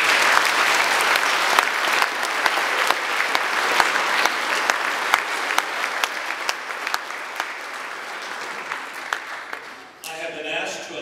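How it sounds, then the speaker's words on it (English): A crowd at a school Christmas program applauds steadily for about ten seconds, dense clapping that fades out before a voice begins speaking at the end. "we need to give a round of applause to our principal, Stephen Kerr."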